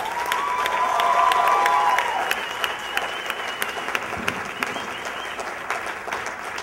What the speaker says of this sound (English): Please give a big round of applause to the brains behind the TEAMspys